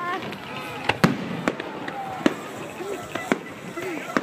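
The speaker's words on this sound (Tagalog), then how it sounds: "Pyro musical. Fireworks." Sharp bangs from a pyromusical fireworks show at a New Year countdown at Taal Vista, bursting every second or so against a steady crackle, while people chatter in the background.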